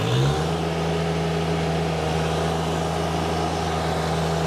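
A diesel subcompact tractor tills garden soil, its engine settling from a quick rise into a loud, steady mid-pitched drone that runs on without a break.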